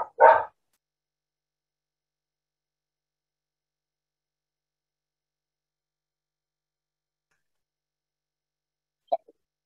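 A dog gives one short, sharp bark at the very start, followed by long silence and a faint, brief yip near the end.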